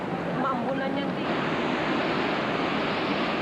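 Waves at a Monterey aquarium exhibit surge and wash in a continuous, dense rush of churning water, loud and close with no letup over a few seconds.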